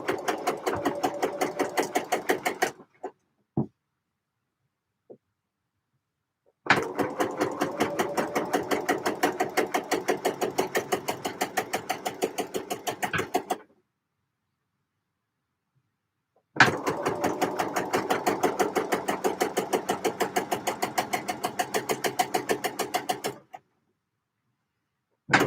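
Contrast-thread topstitching on a knit project comes from a sewing machine running in three long bursts of fast, regular stitching, separated by quiet gaps with a couple of small clicks.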